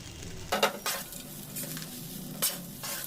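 Poha upma with peanuts and coriander being stirred in a pan, a few scraping strokes of a spoon against metal over a soft, faint sizzle, without any voices.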